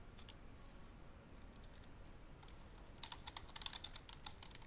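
Rapid keystrokes on a computer keyboard, faint and close, with a steady patter of clicks that grows busier toward the end; no talk.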